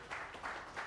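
A brief wash of applause from an audience at an AWS startup conference in San Francisco, steady clapping that swells slightly in waves.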